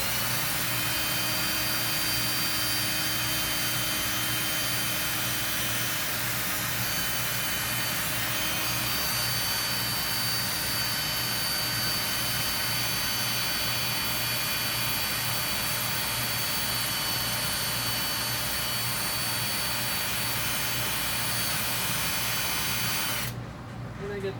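An overhead fan runs steadily in a workshop, a continuous whirring hum with a constant low drone that stays even throughout before cutting off abruptly at the very end.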